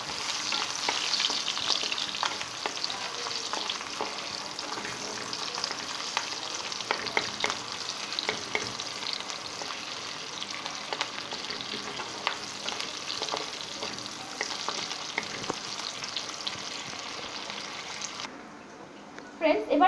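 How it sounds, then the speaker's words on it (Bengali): Chopped onion and green chili sizzle and crackle steadily in hot oil, a close, continuous frying hiss with small pops and occasional stirring scrapes, ending with a brief knock. "তেলটা গরম হয়ে গেছে। এর মধ্যে আমি পেঁয়াজ কুচি আর গ্রিন চিলি দিয়ে দিব।"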